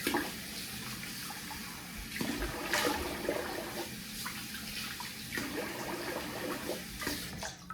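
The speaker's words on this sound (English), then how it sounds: "I'm gonna rinse the face here." Running water at a bathroom sink during a face rinse after a double-edge shave, a continuous faint splashing flow with small irregular splashes.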